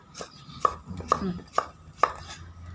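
A knife chops through eggplant on a cutting board, four or five crisp, evenly spaced strokes close up, with quiet shuffling between them.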